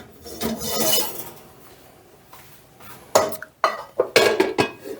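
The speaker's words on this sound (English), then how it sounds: "And get all my pans out." Metal baking pans pulled out and handled in a home kitchen before baking, with scattered clanks and clatters, a burst of rattling early on and several sharper knocks near the end.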